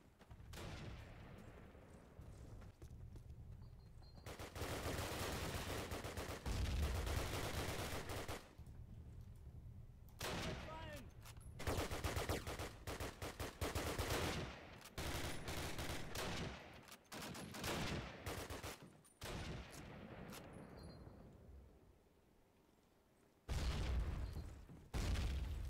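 Gunfire in Call of Duty 1 multiplayer on the Carentan map: loud, repeated bursts of automatic and single shots with heavy booms. It comes in long volleys separated by short lulls.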